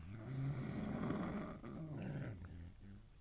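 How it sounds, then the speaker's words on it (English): Don, a dog, lets out a low, rumbling growl or snore that carries steadily through the whole stretch, moderately close, with no talking over it. "I'm not sure whether Don is growling or snoring."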